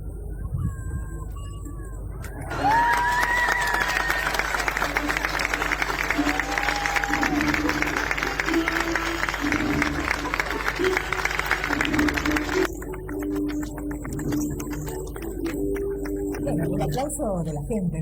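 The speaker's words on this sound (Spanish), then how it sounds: "El aplauso de la gente, ¿no?" A crowd applauds as the lights of a Christmas tree are switched on at an outdoor blessing ceremony led by a priest, a dense burst of clapping lasting about ten seconds, with tonal voices or music rising above it before fading to quieter murmurs.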